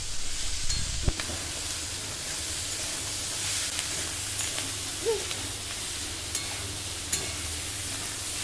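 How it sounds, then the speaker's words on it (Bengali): Chana dal with salt and turmeric sizzles in a pan as it is stir-fried, a continuous soft hiss with a few small taps and scrapes at scattered moments. "এখানে লবণ হলুদ আর ছোলার ডাল দিয়ে ডালটা খুব ভালো করে কষিয়ে দেবো"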